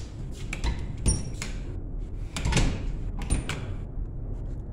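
An old locked door inside a building in Spokane is tried and rattled: several bursts of metallic clanks and knocking handle jiggles come in uneven clusters over a steady background rumble.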